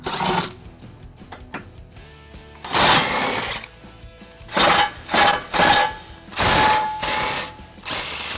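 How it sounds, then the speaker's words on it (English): Sockets on a ratchet loosening the trailer hitch bolts of a 2012 Chrysler Town and Country, 18 mm and 15 mm sizes, heard as several close, loud bursts of rapid ratcheting clicks separated by short pauses, with no talking. "So now we're going to remove the bolts that I just pointed out to you, and I'm going to be using two size sockets on those."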